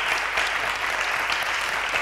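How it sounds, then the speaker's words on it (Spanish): Steady, dense applause from a studio audience at a regional Navarre political TV programme, loud and continuous with no pauses for the full stretch. "el aplauso de los ciudadanos navarros al candidato de Nafarroa Bai"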